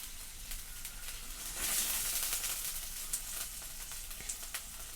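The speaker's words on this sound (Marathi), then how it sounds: "जी आपण फोडणी करून घेतली आहे ती फोडणी आता ह्याच्यावर टाकून घेते" Hot tempering poured onto freshly cut dal-rice dhokla topped with chopped coriander gives a soft, hissing sizzle. The hiss swells briefly near the middle, then settles to a faint fizz. No one speaks.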